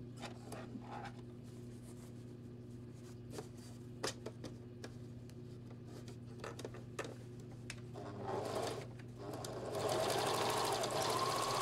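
A sewing machine runs understitching along the facing of a bolero jacket, quiet taps and rustling of fabric at first, then a steady close whirr of stitching building toward the end.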